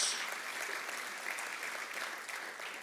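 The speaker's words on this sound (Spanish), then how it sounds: "Dale ese fuerte aplauso a Dios." A church congregation bursts into loud, sustained applause during a sermon, dense clapping from many hands filling the room from start to end.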